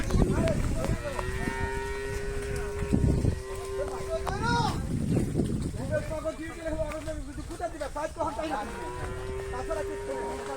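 A cow brought for Qurbani sacrifice moos several times in long, drawn-out calls, mixed with people talking and muddy splashing footsteps nearby.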